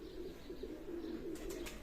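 Kashmiri chhut pigeons coo softly in a slow, repeated rhythm on a rooftop, a few low throaty calls close by with faint rustling and no talk.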